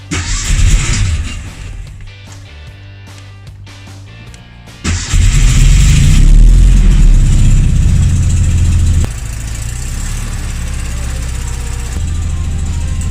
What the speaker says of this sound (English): it's idling fine.